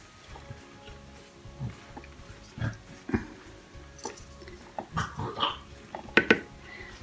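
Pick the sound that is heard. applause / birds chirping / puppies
puppies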